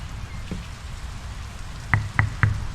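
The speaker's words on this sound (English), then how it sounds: "The rain's picking up." Rain falls steadily in the video game Draugen, a soft continuous patter with a low wash underneath, punctuated near the end by three sharp, close drip-like taps.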